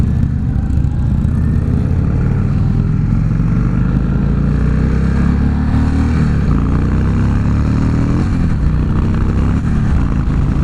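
A 2016 Indian Chief Dark Horse cruiser motorcycle rumbles loudly and continuously while being ridden, the engine note climbing gradually under strong wind noise, with no voices.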